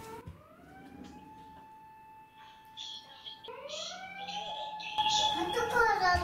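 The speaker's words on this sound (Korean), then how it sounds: "소방차 왔다" A fire engine siren passing outside a home, its long rising and falling wail sweeping up twice and growing louder toward the end, with a voice and household talk underneath.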